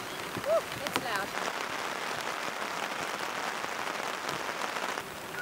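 Heavy autumn rain drums steadily on a taut camping tarp, a dense close patter that stays loud and even throughout, with no voices.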